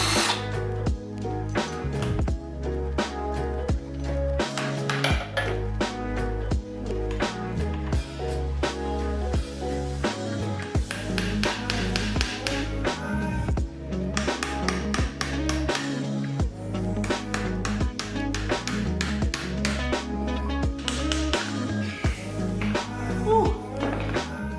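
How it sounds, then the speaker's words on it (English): A hammer drives a roll pin out of the shift linkage on a built Honda Civic during a teardown, with repeated sharp metallic taps and knocks in uneven bursts, close and fairly loud throughout. "hammer out that pin right there"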